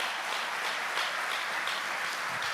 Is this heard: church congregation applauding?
yes